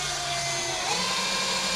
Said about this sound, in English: So all we've got is a spot weld drill bit.